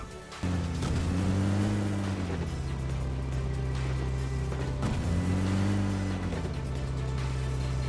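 A car drives in the PUBG video game, its engine droning loud and continuous with two rising and falling revs as it speeds along, filling the whole stretch.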